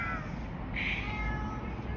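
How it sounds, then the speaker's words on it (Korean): A street cat meowing outdoors, one short clear meow in the middle of a faint background hum, with no talking. "어? 고양이다."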